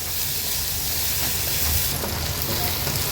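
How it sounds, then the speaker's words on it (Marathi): Onion with ginger-garlic-chili paste cooks in a pan over a low flame, giving off a continuous, fairly loud sizzle and hiss with no pauses. "आता कांदा आणि हा क्रश छान आपल्याला शिजवून घ्यायचा आहे"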